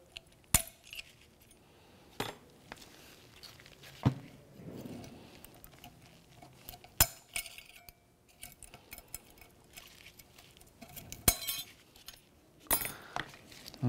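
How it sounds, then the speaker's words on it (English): Sharp metallic clicks and clinks from a pick tool prying old metal brake hardware clips off the rear brakes of a 2007-2013 Acura MDX, several scattered snaps spread over the stretch with quiet gaps, close by and with no talking. "Just pry up the old hardware."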